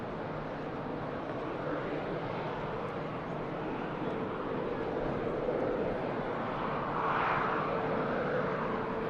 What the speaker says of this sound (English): Beautiful Egypt Air coming in from Cairo.